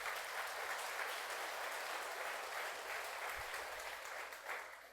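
A church congregation applauds in steady, dense clapping that holds at an even loudness throughout and fades slightly at the end, with no talk over it.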